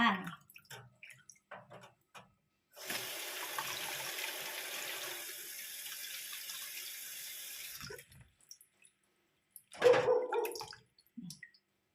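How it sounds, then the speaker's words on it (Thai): Tap water running steadily into a sink as mushrooms are rinsed, a long continuous splashing stretch that changes tone midway, with scattered handling clatter and a brief splash near the end. "เดี๋ยวเราก็มาล้างเห็ดกันค่ะทุกคน จ้าล้างเห็ดจ้า"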